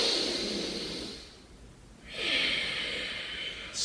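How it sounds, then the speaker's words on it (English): Deep, slow breaths during a yoga exercise, close and fairly soft: a long airy exhale, a short pause, then another full breath through the nose with no talking. "we're going to do 5 deep breaths here"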